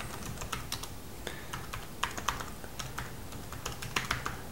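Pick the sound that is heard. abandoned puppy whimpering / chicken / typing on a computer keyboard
typing on a computer keyboard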